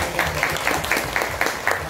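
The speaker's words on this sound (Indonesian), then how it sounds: "Nah itu tepuk tangan" Light clapping from a small group of relatives at a family reunion, a brief patter of hands with a few distinct claps standing out over a murmur of room noise.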